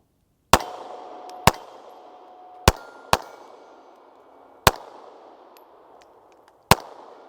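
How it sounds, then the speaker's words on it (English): A Steyr M9-A1 pistol fires American Eagle 115 grain Syntech rounds outdoors, six sharp, loud reports at irregular intervals, each followed by a short ringing decay, with no talking. "we're going to shoot it a few more times"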